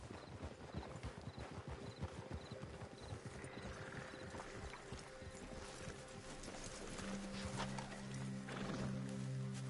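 Horses in Red Dead Redemption 2 clip-clop along at a steady gait, hoofbeats loud and close at first and then easing off as a low rumble and brief snorts or whinnies rise toward the end, with no talking.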